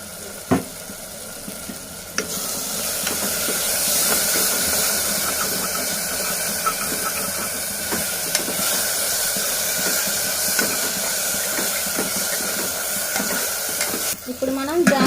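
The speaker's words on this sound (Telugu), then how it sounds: "కొంచెం పసుపు వేసి కలుపుకొని" Turmeric and coriander powder being stirred into frying sweet corn egg rice, a steady hissing sizzle with repeated scraping stir strokes and a few clanks against the pan, fairly close and loud.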